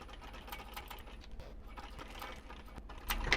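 Sewing machine stitching a double zip wristlet, a quiet rapid mechanical patter of the needle, close by, ending in a louder burst of stitching and a small metallic clink.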